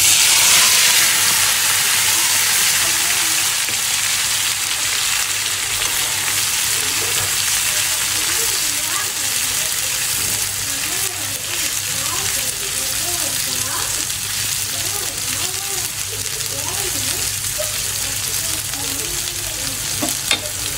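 Shrimp fry loudly in a pan, with a dense, close, unbroken sizzle and hiss lasting throughout, while a voice talks faintly beneath the crackle.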